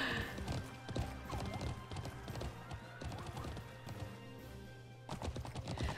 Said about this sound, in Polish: Pięknie ukończyłeś ten wyścig koni.